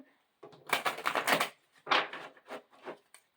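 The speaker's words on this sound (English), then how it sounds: "I'm so not used to shuffling little cards." Quick bursts of small tarot cards being shuffled, crisp riffling flutters in several short runs with brief pauses between, close and fairly clear.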